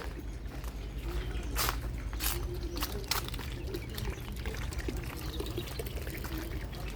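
Water flows from a fountain in a garden in Riyadh, Saudi Arabia, pouring and splashing steadily with light trickling, heard at moderate distance amid faint outdoor background.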